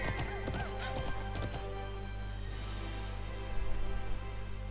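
Horse in the video game Alicia Online gallops with steady clip-clop hoofbeats and several high whinnies early on, layered over continuous tonal game music, with a slightly louder burst of hooves near the end.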